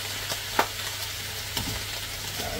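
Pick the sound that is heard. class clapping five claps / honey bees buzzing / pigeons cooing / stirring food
stirring food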